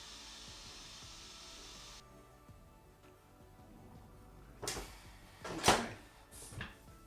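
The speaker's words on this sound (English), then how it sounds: "In a moment, the pressure will unlock and you'll hear a click," Crockpot Express pressure cooker lid unlocking with a few short, sharp clicks and clunks near the end, following a soft hiss and quiet background; no talking.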